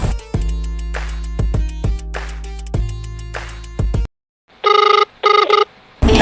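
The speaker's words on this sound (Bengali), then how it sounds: "আরে কে ফোন দিল দেখছি" A phone rings with a loud, melodic electronic ringtone that plays for several seconds, stops briefly, then returns as short, repeated tonal bursts, with no voices.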